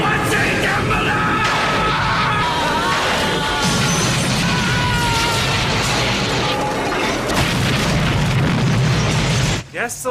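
A lightning strike and explosion: a loud, chaotic crash and booming burst with clattering debris filling the scene, continuous and dense, ending in a sudden cutoff.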